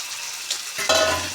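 Fried fish pieces stirred into a thick fish masala in a pan, a soft scraping stir that turns into a steady close sizzle partway through.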